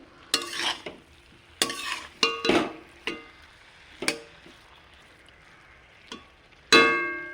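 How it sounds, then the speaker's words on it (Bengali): Cabbage is stirred with spices in a frying pan over a lowered flame, a series of sharp scraping, clattering utensil strokes at irregular intervals, about eight of them, over a quiet sizzling background, with no speech. "বাঁধাকপিটা একটু ভালোভাবে নেড়ে মশলাগুলোর সাথে মিশিয়ে নেবো"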